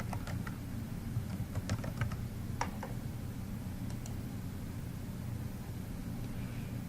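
A computer keyboard clicks as a search term is typed, with a few quick keystrokes early and scattered taps later, faint and close over a steady low hum.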